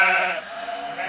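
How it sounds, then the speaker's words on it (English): A single close, loud sheep bleat, wavering and drawn out, fading into a quieter tail. "Come on, Boris, I'll show you where the sheep orgies are."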